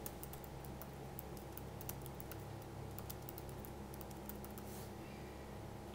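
Typing on a computer keyboard while coding a Rails blog: quick, irregular clicks and taps in a steady stream over a constant background hum, no talking.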